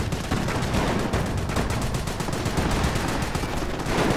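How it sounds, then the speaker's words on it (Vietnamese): Rapid, dense gunfire and cannon blasts from a World War II battle in Company of Heroes: Opposing Fronts, fighting for Caen, with sharp reports crowding together in a loud, continuous barrage. "Mạng này mình nâng pháo lên rồi các bạn thấy rồi đó,"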